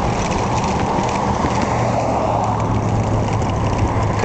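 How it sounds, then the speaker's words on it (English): Steady wind blows outdoors over a small propeller motor on a self-propelled bicycle, giving a loud, continuous broadband rush with a low hum running beneath it the whole time. "Some really good wind here."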